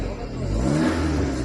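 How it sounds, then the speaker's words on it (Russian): A used car's engine revved by its owner at an outdoor car market in Kazakhstan, a near, mid-pitched engine rising and holding in a short burst, with people talking over it. "Хозяин газует, слышно."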